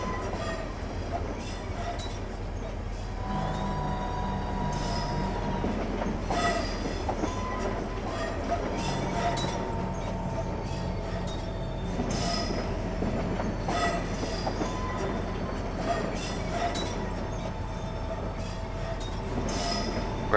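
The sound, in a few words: train coasting on rails in video game Train Simulator 2015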